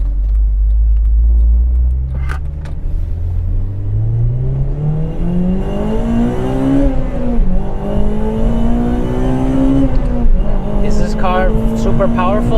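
A Honda Civic Type R FD2 engine pulls under throttle while driving, revs climbing steadily through the gears with a loud, rising intake and exhaust note and brief drops at each shift, with someone talking over it.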